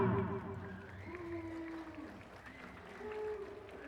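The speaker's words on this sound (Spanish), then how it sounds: "Vamos a aplaudir para la señorita." Applause from a comedy-show audience at a pageant-style event in Xayomlaj, a fairly faint crowd clapping that fills the few seconds, with some voices mixed in.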